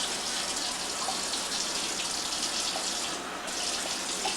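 Water pours steadily from a tap into a tomato sauce can to rinse it out in a home kitchen, a close, even, hissing rush with no talking.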